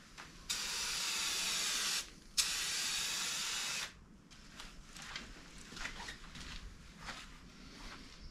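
Spray paint hissing onto a Honda Civic wing in two close bursts, roughly one and a half seconds each with a short gap, followed by faint shuffling and handling noises.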